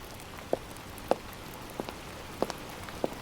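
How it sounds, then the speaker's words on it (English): Rain falls at night in a soft, steady hiss, with a few louder drops tapping out at irregular intervals close by. "The rain was coming down heavily, the night sky obscured by a thick sheet of grey clouds"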